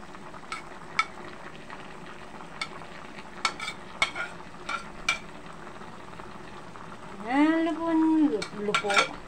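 Onions go into a pan where a tilapia fish steak is frying with eggplant, giving a sizzle and scattered utensil clinks and scrapes, then a voice briefly speaks near the end.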